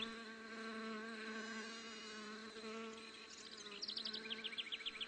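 Asian hornet (Vespa velutina) hovering near a beehive, a close, sustained buzzing drone with a steady pitched hum, joined near the end by quicker fluttering wingbeats from nearby bees.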